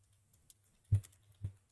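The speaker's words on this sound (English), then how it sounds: "Type that in, press enter." Keystrokes on a computer keyboard, heard as a few faint, sparse clicks with two slightly louder taps near the middle and end, isolated against a quiet background.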